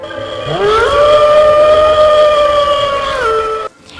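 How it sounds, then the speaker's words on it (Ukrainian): A single long wolf howl rises, holds a steady wavering pitch for a few seconds, then falls away and cuts off, loud and clear. "Виття вони використовують для спілкування між членами групи на великих відстанях"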